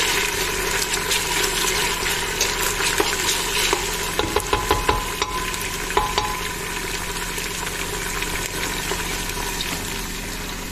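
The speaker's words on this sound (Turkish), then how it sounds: "Birazcık da domatesimizi kavuralım" Tomatoes sautéing in a pan for a vegetable stew with beans, zucchini and eggplant, producing a loud continuous sizzle with intermittent stirring clicks and scrapes.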